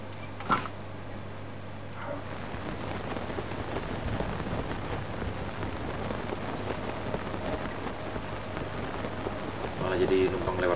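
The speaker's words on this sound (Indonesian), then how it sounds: "Oh, ini saya masuk ke lokasi badainya ya." Steady heavy rain pours in a storm in the video game Zelda: Tears of the Kingdom, with a rumble of thunder rising near the end and a brief low thump early on.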